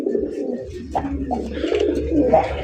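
Close, loud pigeon cooing at a pigeon farm with throaty rolling notes, a couple of birds calling over a low rumble.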